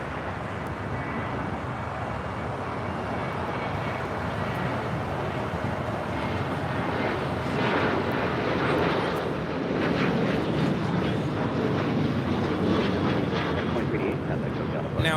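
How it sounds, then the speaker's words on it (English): An American Airlines Boeing 737-800 takes off from LAX, a broad steady jet roar that swells slightly partway through, heard from a distance with wind buffeting the microphone. "Now jetting out of here is American 2388 taking off to Las Vegas on a 737-800"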